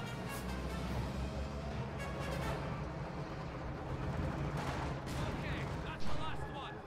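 A Katyusha rocket artillery barrage roars through a video game battle, a continuous rumble of launches and impacts with a sharper burst near the end, while a voice talks over it.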